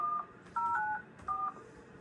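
Touch-tone keypad beeps as a phone number is dialed on a phone fitted with a call blocker: three short dual-tone presses with brief pauses between them, close and clear, no talking.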